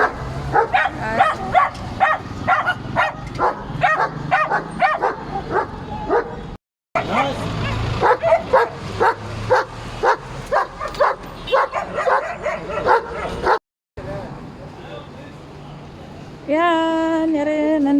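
Dogs bark and yip in rapid, steady bursts inside a Carrefour store, close and loud, with brief gaps and a high whine near the end; some voices mix in.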